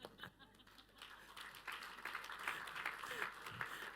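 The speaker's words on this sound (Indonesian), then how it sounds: "Saya tuh tahu saudara tepuk tangan" A church congregation claps in scattered applause during a sermon, building into a fuller, steady patter over a few seconds, with some voices mixed in.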